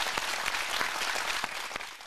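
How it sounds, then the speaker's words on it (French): A TV studio audience claps for Quebec minister Christian Dubé as he is welcomed on a live show, a dense, even wash of applause with individual claps standing out, fading slightly toward the end. "À moins que ce soit des applaudissements comme au Centre Bell, ça a l'air vraiment du monde qui applaudisse"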